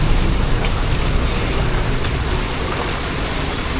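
Heavy rain pours down at a beach on a private trip to Tawing, a dense, loud, unbroken hiss that fills the whole stretch with no voices.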